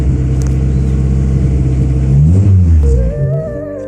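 A Citi Mk1 car engine with a knock warms up close by, idling in a steady low rumble that swells briefly into a rev before settling back.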